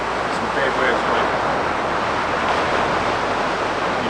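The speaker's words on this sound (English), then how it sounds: "See, there's some big waves." Big ocean waves break on a South African shore at night, a loud, continuous roar of surf and wash close by, with wind buffeting the microphone.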